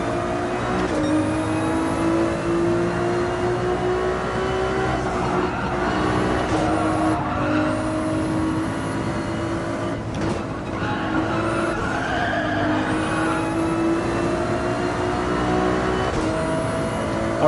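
A Ferrari race car in Gran Turismo 7, driven on a Highway 1 time attack, gives a continuous engine drone with shifting pitch and occasional tire squeal, steady and moderately loud throughout.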